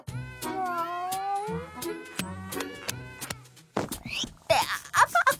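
A cartoon character from the Loud House meows like a cat in several drawn-out, wavering cries, followed by a clatter of effects and shorter cat-like squeals, with other voices around.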